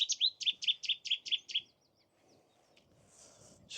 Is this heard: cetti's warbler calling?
yes